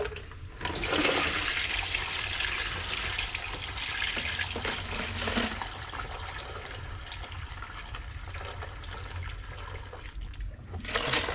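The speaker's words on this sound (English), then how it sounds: "So we'll slowly pour it in to our media separator here." Tumbled brass cartridge cases and wet media poured slowly into a media separator while reloading .30-06, a steady rushing, clattering wash that fills the whole stretch without talk.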